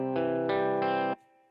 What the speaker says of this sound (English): And we've got things like heavy distortion.